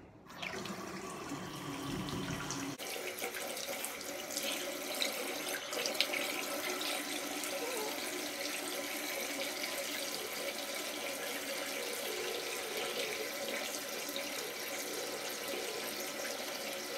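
Tap water runs steadily into a sink during face washing, a continuous close splashing stream that starts after a brief quieter moment and carries on evenly without talk.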